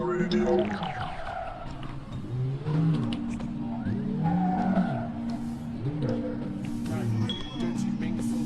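A 270 DX motorcycle in the game Sleeping Dogs rides through a parking area, its engine revving and whining with rising and falling pitch sweeps over game music and background voices.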